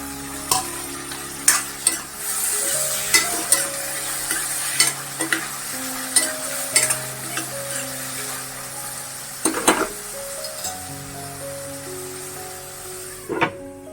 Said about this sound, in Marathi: आता मी टामॅटो घालते जे दोन बारीक शिरले होते ते